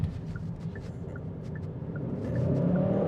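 A 2025 Hyundai Sonata N-Line sedan accelerates while merging onto an interstate in Sport Plus mode, with a low engine rumble and road noise from inside the cabin that builds slightly toward the end.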